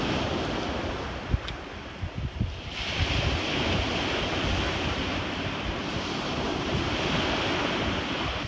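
Ocean waves wash steadily into a cove, a broad continuous rushing surf mixed with wind noise buffeting the microphone, with a few brief knocks early on and no voices.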